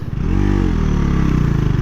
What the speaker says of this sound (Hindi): फिफ्थ गियर में भी मोटरसाइकिल जो है वो जीरो से स्टार्ट हो गई।